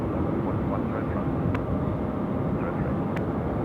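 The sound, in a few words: airliner departing Sydney Airport at night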